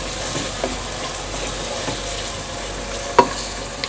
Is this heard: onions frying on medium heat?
yes